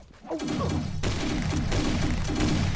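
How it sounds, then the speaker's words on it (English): Rapid gunfire in the mobile shooter Pixel Gun 3D, dense overlapping bursts of shots firing continuously and loudly from several weapons at once, with no talk. "They're shooting like both ways too."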